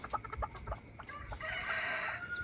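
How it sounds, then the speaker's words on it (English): Small backyard chickens on a homestead clucking in short bursts at first, then a steadier layer of bird calls, close by with no talking. "Well, that's the chickens."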